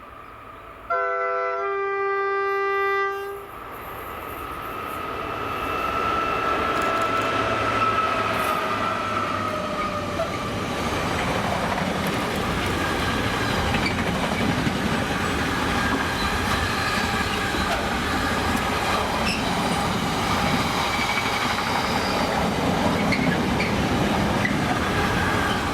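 Class 90 electric locomotives 90014 and 90041 hauling a Coatbridge to Crewe freight train in Scotland: a brief two-tone horn at the start, then a swelling rumble and clatter of wagons with squealing wheels rolling steadily past close by.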